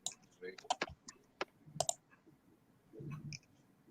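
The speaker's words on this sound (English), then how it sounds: "You can even hear me clicking around too when I click." A gaming mouse or mechanical keyboard gives a burst of sharp, quick clicks close to the mic, irregularly spaced, with a low voice faintly underneath.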